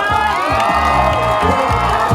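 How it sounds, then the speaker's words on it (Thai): A crowd of supporters at a Pheu Thai Party political rally screams and cheers loudly and continuously, shrill whoops and shouts layered into a dense, close roar with no clear pauses. "ขอเสียงกรี๊ดกระเดนจากนางแบกเพื่อไทย"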